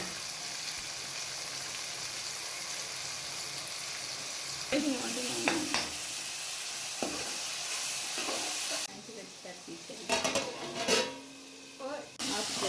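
Tomatoes frying in a pan during veg biryani preparation, a steady close sizzle with occasional stirring scrapes and clinks partway through.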